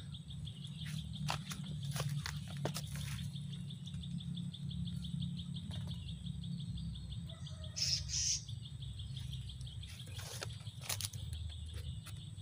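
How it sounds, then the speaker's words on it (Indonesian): A plain prinia chirps in quick, high repeated calls over a steady insect drone and low rumble, with a brief sharper burst partway through. "Ternyata yang kena burung perenjak sawah"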